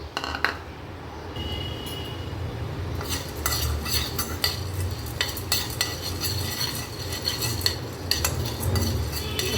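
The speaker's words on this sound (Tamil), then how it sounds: "ஒரு கப் அளவுக்கு பொட்டுக்கடலை எடுத்து லைட்டாக வறுத்து எடுத்துக்கலாம்" Roasted gram dal dry-roasting in a pan for a sweet halwa, a soft rustling stir with clinks and scrapes of a spoon against metal, moderately close and without speech.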